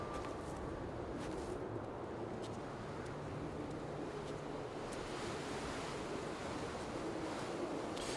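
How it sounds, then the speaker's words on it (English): Waves wash against the foot of a cliff on a remote island shore in the game Dear Esther, a continuous broad rushing surf with wind, steady and fairly distant, with no voices. "There is water down there."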